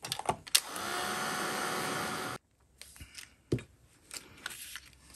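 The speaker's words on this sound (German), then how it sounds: "Ich föhne das ganz kurz." A hair dryer blowing briefly to dry paint on a junk journal tag, a steady, faint airy whir lasting under two seconds before cutting off, followed by quiet crafting rustles and taps.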